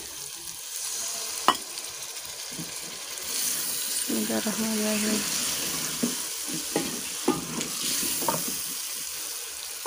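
Water is poured into a pan of frying shimla mirch gosht with potatoes, bringing a loud sizzle and hiss, followed by scraping spoon strokes as the mix is stirred. A voice speaks briefly.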